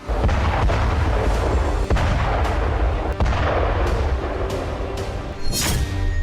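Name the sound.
explosion of an oil depot in Ukraine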